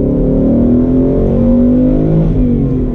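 A 2019 Ford Mustang GT Performance Pack 2 with a 460-horsepower V8 pulls hard in a second-gear roll-on, the engine note loud and rising steadily throughout with no one speaking.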